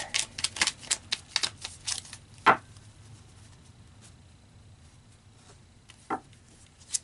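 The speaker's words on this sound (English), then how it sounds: "so let's pull some more cards" Tarot cards are shuffled and drawn in a quick run of soft riffling clicks and flicks. A few sharper card snaps follow in a quiet room, with no voice.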